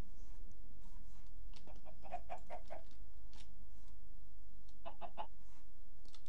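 Chickens in the Minecraft video game cluck in two short bursts of repeated, clipped calls, set over a low steady background hum.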